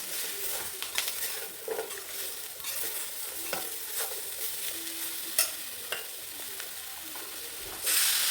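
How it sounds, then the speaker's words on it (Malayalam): Ivy gourd being stirred in a frying pan for a stir fry: a continuous sizzle with repeated scrapes and knocks of a spoon against the pan, alone without speech. "കോവയ്ക്ക കൂടി അതിലേക്ക് ചേർത്ത് നന്നായിട്ട് ഇളക്കി മിക്സ് ചെയ്യുക"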